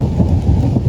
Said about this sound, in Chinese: 打雷了打雷了